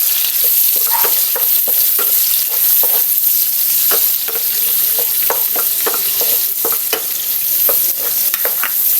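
Garlic, onion and tomato sauté together in hot oil, a steady close sizzle with scattered scrapes and taps of a spoon stirring the pan.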